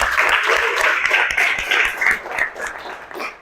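A classroom of students clapping hands together, a close, loud burst of many overlapping claps that thins out and fades toward the end.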